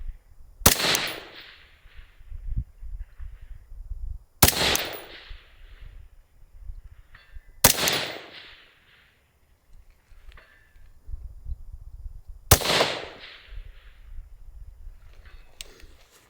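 A suppressed AR10 rifle fires four sharp, well-spaced shots outdoors at a long-range setting, each a hard crack followed by a short decay, with faint background noise between shots.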